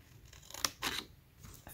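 Scissors snip through a small piece of paper cut for a crochet tea-mug coaster project, two or three crisp close cuts with a papery rustle, no talking.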